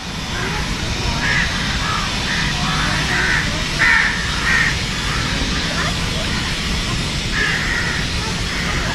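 Several crows caw in short repeated bursts over a steady background rumble in a farm park in Pakistan, some calls louder and nearer than others.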